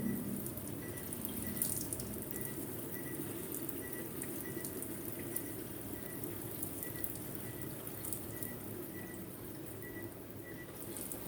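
Water runs steadily from a water ionizer machine making alkaline water, a continuous even hiss and splash that stays close and unchanging throughout, with no talking.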